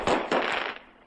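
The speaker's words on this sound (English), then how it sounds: "That sounded like gunfire." Two loud, sharp bangs like gunfire or firecrackers go off in quick succession outdoors on a Los Angeles street at night, each trailing into a brief echoing decay.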